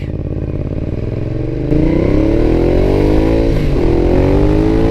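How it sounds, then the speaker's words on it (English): A Ducati Diavel motorcycle engine idles with a steady rumble, then revs up louder and climbs in pitch, close and continuous throughout. "This is what a Ducati Diavel sounds like."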